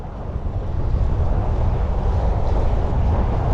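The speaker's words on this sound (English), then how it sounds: "You just hear the water churning, you know, the sound of the water." Water churning and rushing behind a small boat pushed at full throttle by a Newport NT600 electric outboard, a loud continuous wash with wind buffeting, motor itself barely audible, no talking.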